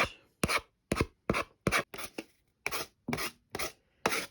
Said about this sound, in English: the sandpaper grit I'm using here is a 220